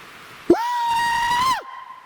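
A person by the Clearwater River lets out a long, loud, sustained Bigfoot-style scream call that rises sharply, holds a steady high pitch for about a second, then drops away. A human voice imitates the creature's cry.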